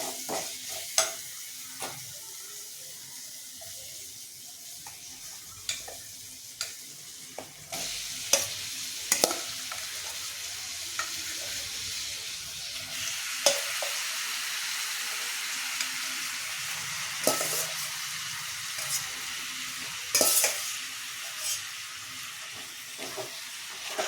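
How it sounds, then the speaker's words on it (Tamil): Chicken frying with sautéed tomatoes in a pan for Chettinad-style gravy, a continuous sizzle broken by scattered sharp clinks and scrapes of stirring, close and moderately loud. "தக்காளி நல்லா வதங்கிடுச்சு சிக்கனை போட்டுக்குவோம்"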